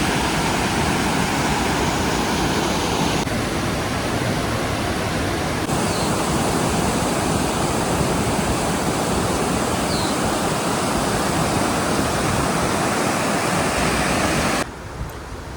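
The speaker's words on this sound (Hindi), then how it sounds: "रिवर की इतनी प्यारी आवाज़ आ रही थी" River water rushing past a riverside spot in Kasol during light rain, a dense, steady roar of flowing water that continues unbroken and fairly loud throughout.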